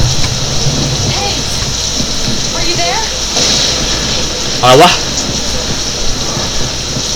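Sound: rain falling in the King Kong video game

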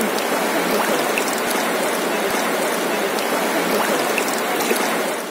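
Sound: Dhalai river stream water flowing over stones at Sada Pathor

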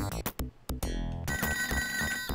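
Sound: telephone ringing in a Sega Genesis video game

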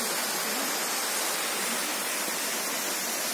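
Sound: waterfall water flowing, Hirni Water Fall

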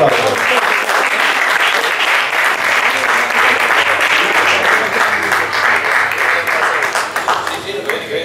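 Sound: applause

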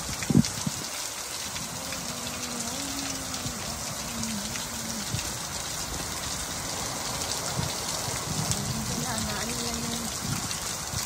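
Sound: heavy rain

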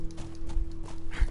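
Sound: horse galloping and neighing in a video game

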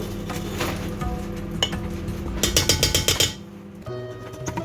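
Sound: stirring chicken biryani in a pot

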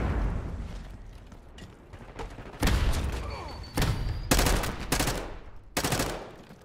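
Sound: gunfire in video game Call of Duty Black Ops 6

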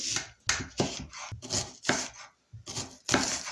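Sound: knife chopping onion into thin half rings

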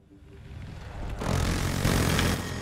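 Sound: helicopter in video game Battlefield 2042

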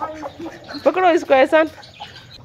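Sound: hen clucking

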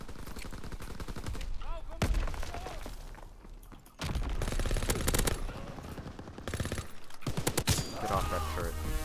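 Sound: PPSh submachine gun firing in video game WW2

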